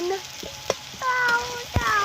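Chopped onions fry lightly in oil for a spicy tilapia fish curry with lentil dumplings, giving a steady close sizzle with stirring sounds while a voice talks over it.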